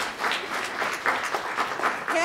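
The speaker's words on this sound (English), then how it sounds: "Maybe that deserves a round of applause." Audience applause at a talk, a short burst of many hands clapping together at a steady level from start to finish.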